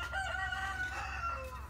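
A rooster crows once, a long drawn-out call from a short distance, over a low steady rumble in the background.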